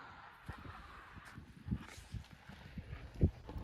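Two horses playing in winter snow make a soft, uneven series of hoof thuds and shuffling steps nearby, with a couple of heavier stomps standing out.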